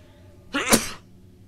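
A single sharp human sneeze bursts out once, close and loud, during a blindfolded Resident Evil 4 playthrough, with near silence before and after.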